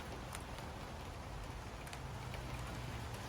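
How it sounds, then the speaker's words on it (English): Rain falls during a windy thunderstorm over Thunder Bay, Ontario, a faint, even hiss with a few soft drop ticks and a low rumble underneath. "You got rain happening."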